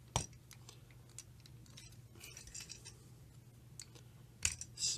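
Plastic Titans Return Doomshot and Megatron toy parts folded down, heard as a few sharp close clicks and light snaps scattered over quiet room tone, with a louder pair of clicks near the end.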